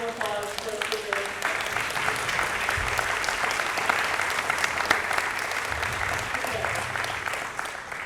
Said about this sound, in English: Give a big round of applause for our speakers.